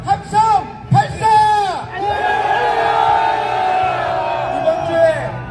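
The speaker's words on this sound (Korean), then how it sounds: "3초간 함성 발사! 윤석열이가 오줌을 지르게 다시 한번 함성 발사!" Protesting marines marching on the presidential office in Yongsan roar a battle cry together, a loud group shout in bursts that swells into a sustained collective yell up close.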